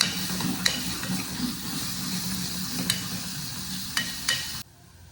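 Spices frying in a pan for a curry, a steady close sizzle with a few sharp clicks of stirring, cutting off abruptly near the end.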